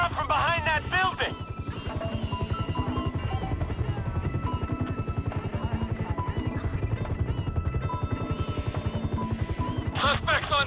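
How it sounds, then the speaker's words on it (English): A police helicopter in Grand Theft Auto 5 thumps overhead with fast, even rotor beats that hold steady the whole time, while voices speak briefly at the start and again near the end. "Okay, I see the chopper."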